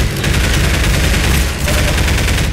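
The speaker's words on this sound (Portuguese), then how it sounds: "Que o bicho atira em mim, não tô nem prestando atenção de onde tá vindo a bala" Enemy gunfire in the video game Half-Life 2 rattles in a dense, continuous volley of rapid shots, loud and close, with no pause throughout.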